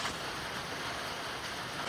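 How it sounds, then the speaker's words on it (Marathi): Rain falling outdoors during an unseasonal April shower, a soft, even broadband hiss of steady drops with no voices. "खरंच पाऊस पडायला लागला आहे."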